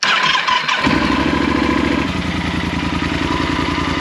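A hot motorcycle engine in 46-degree desert heat at Erg Chebbi, Merzouga, cranks briefly, then catches and settles into a loud, rhythmic idle, close up.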